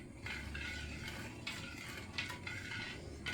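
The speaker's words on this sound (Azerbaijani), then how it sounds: "Bunu qaynayana kimi qarışdıracağım." Sugar syrup for paxlava is stirred in a pot with a utensil, giving soft scraping and clinking strokes at close range, fairly quiet, with no talk.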